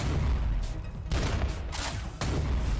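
Mech weapons fire in the Ignited Steel mech tactics game: several heavy, booming volleys arrive in separate bursts over a low, steady rumble, loud and close, with no talking.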